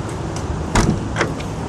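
The rear-hinged suicide door of a 1963 Rover P4 110 being opened, with a pair of close mechanical clunks from the latch and hinge over a steady background hum.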